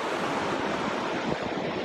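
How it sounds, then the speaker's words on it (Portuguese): Pacific Ocean surf at Antofagasta, Chile: a continuous broad wash of waves rolling in, steady and fairly loud, with some wind noise and no voices. "Tá escutando esse som? As ondas do Pacífico aí."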